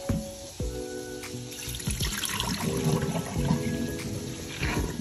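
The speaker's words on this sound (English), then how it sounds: "I'm gonna get rid of this marinade because I don't need it no more. Pour it off." Marinade poured off raw chicken into a kitchen sink, a close, steady liquid splash and trickle over about five seconds, with no talking.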